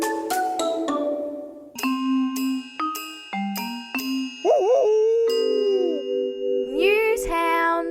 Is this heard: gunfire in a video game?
no